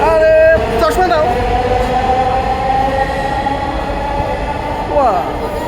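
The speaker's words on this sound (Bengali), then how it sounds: "ট্রেন আছে, আসবে ট্রেন।" A train rumbles loudly at a station, with a steady roar, rising metallic squeals of the wheels, and voices of people nearby.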